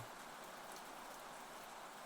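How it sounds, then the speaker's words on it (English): Steady rain falls outside an open window, a dense, even hiss of drops on surfaces that holds at a soft, constant level throughout, with no voices over it. "I focus on the sounds of the rain."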